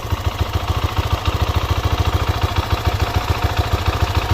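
A 2023 Husqvarna 701 motorcycle engine idles close by, a loud single-cylinder thump pulsing in a steady, even rhythm throughout with no voices over it.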